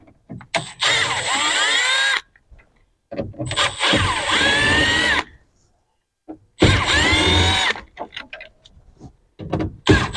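A power drill backs screws out of the dash of a 1968 G20 van in three loud whirring bursts of a couple of seconds each, with short quiet gaps and small clicks between them.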